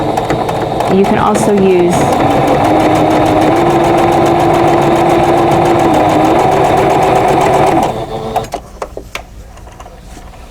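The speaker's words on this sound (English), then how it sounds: "I'll just go ahead and sew these 2 triangles together for you" Sewing machine stitching two fabric triangles together in precision quilt piecing, a steady close mechanical whir for about eight seconds that then stops, with someone speaking at the end.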